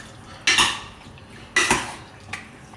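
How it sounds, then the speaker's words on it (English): Chicken wings being tossed and mixed in a bowl with oil and char siu sauce for air frying, giving two clattering scrapes about a second apart and a faint third knock, close and alone. "now we're gonna mix these chicken wings up"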